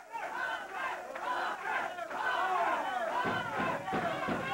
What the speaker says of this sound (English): Fans cheering for Rocker.